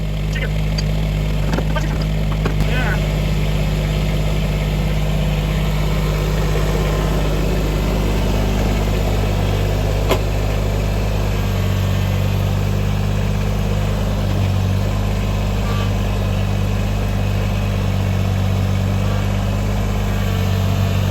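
A small Kubota tractor engine idles steadily and loudly close by while it lifts an engine out of a van, with a constant drone throughout and a few knocks and metallic clinks over it.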